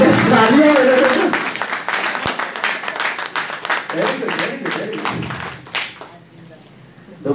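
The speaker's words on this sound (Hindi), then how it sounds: "अरे तालियां बजती है ना, तालियां बजती।" Audience clapping together at a seminar on organic farming products, a loud dense burst of applause that gradually thins and fades out toward the end.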